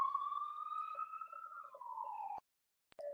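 A wailing emergency siren sounds steadily and fairly loud, its pitch sliding slowly downward before cutting off abruptly, followed by near silence and a couple of brief clicks.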